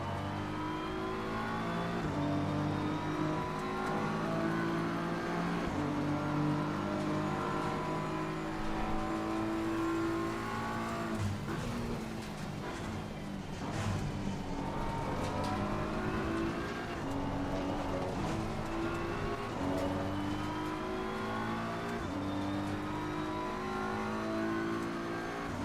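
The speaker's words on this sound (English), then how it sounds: "Big old gaggle of cars here, all in a bit of a battle." Several race cars in a sim racing game (Assetto Corsa Competizione or Gran Turismo 7) battle closely in a pack, engines droning and revving continuously with overlapping exhaust notes and brief shifts, loud and steady throughout with no talk.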